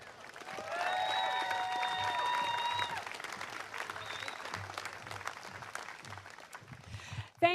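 Sustained crowd applause greets a state senate leader at an outdoor political event, loud and steady clapping that slowly thins out before a voice begins speaking at the end.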